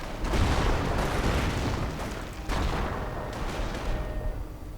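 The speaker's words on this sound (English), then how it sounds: "Another artillery strike unleashed" Artillery strike in a World War II strategy game, a dense barrage of heavy booms and overlapping blasts rolling continuously, loud and close with a second wave of impacts midway.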